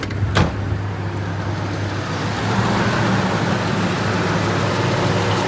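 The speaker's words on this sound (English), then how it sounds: "see if we can get the compressor to engage." A 1998 Ford F150 engine idles steadily with a low hum, a sharp click near the start, then the drone swells slightly as the AC compressor engages.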